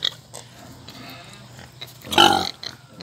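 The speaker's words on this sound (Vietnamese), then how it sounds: "Đó là heo Việt nha." A Vietnamese pig grunting, a few short close grunts followed by one loud, rough snorting grunt, then quieter snuffles.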